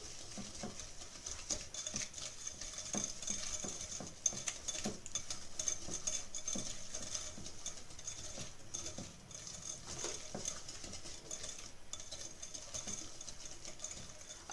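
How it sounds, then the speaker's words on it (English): Blondie batter whisked in a bowl, a fast continuous ticking patter of the whisk against the bowl, close and fairly quiet, with no voices. "Whisk that in."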